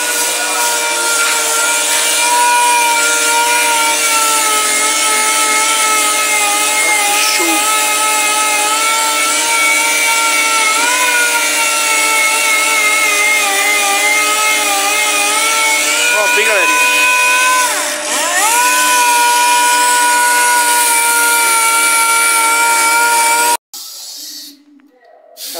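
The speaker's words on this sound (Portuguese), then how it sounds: "Na máquina, com o compressor, a lixadeira, né?" An electric power sander driven hard against a rusty industrial stove gives a steady, loud whine with strong tonal harmonics that dip briefly mid-way, running continuously alone before cutting off abruptly near the end.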